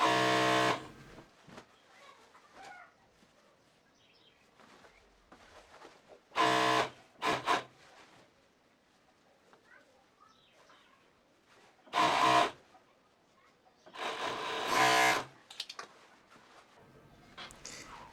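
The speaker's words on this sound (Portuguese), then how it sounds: "aqui eu vou unir a lateral da calça na overlock" An overlock serger joins the side seam of women's trousers in a few short, loud machine bursts separated by quiet pauses, with no talking.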